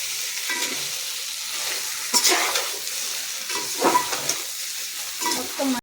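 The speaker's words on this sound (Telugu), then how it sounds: "ఈ గ్రేవీ చికెన్ ఇందులో వేసేసాం కదా, ఇప్పుడు మొత్తం మిక్స్ చేయాలి." Chicken gravy and rice for chicken pulao are mixed in a pot, a close, soft sizzling hiss broken by several louder scraping and stirring strokes of the ladle. No one speaks.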